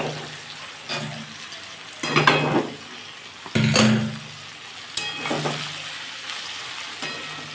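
Sliced snake gourd fries in a pan, with a soft steady sizzle broken by several scraping stirs and clinks of a utensil against the metal, moderately close, with no talking.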